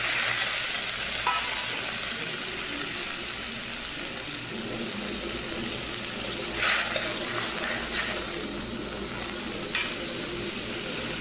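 Chopped garlic and chili sizzle steadily in a pan with a splash of water, a continuous close frying hiss with occasional louder spits and crackles, no voices.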